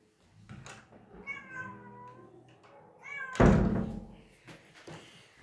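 A house cat meows repeatedly at a door, several rising cries close by, followed by a loud thump and knock as the door is handled.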